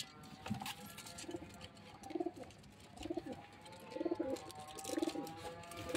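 Siraji pigeons kept for sale cooing close by, a series of soft, rolling low coos repeating in rhythmic bursts, with a faint high whistle or tone running underneath.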